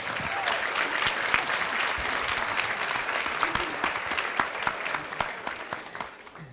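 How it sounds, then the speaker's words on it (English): Audience applause for a panel of women in the arts at an International Women's Day event in Hong Kong, steady dense clapping throughout that thins slightly toward the end. "Let's give them a big round of applause."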